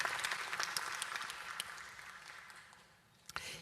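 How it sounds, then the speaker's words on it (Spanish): A church congregation applauding in honour of mothers, a dense sustained wash of clapping that fades somewhat before a brief final burst near the end. "siempre un aplauso para mamá es bienvenido."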